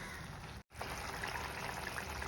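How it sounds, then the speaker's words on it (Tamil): Water is poured into a tamarind mixture in a cooking pot, a steady trickling pour following a brief break, close and fairly quiet. "ஒரு 1/2 டம்ளர் தண்ணி ஆட் பண்ணிக்கிறேன்."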